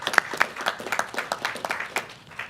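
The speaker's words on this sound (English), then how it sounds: "let's go ahead and give him a round of applause" A few people at a school board meeting clap, giving sparse, distinct hand claps in an uneven rhythm, close and fairly quiet, with no voices over them.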